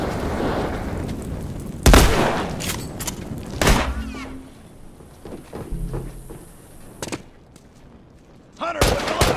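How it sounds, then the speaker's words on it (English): Shotgun blasts in The Last of Us Factions multiplayer match: a few heavy, booming single shots spaced seconds apart, mixed with thuds and voices talking over them. "Shotgun!"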